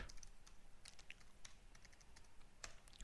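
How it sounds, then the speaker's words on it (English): Soft quiet keystrokes of a password typed on a computer keyboard, irregular light clicks and taps spread through the moment. "let me type the password"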